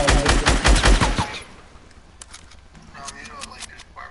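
Rapid bursts of gunfire in a building-and-shooting video game, dense and loud for about a second, then fading into quieter scattered shots and game noise.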